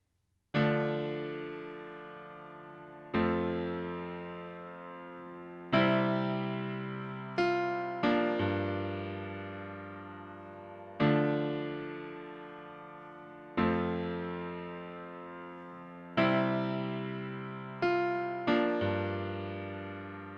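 Piano plays the verse of a pop song as slow, sustained chords one after another, each ringing out and fading before the next, in a calm, steady rhythm.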